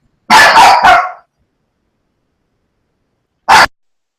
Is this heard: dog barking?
yes